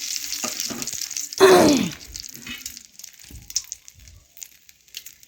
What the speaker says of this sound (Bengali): একটু ভেজে নেব। একটু ভাজা হয়ে গেলেই দেখুন আমি ধুয়ে রাখা সজনে ফুলগুলো দিয়ে দেব।